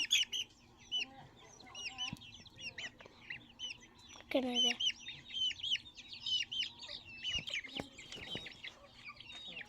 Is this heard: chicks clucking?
yes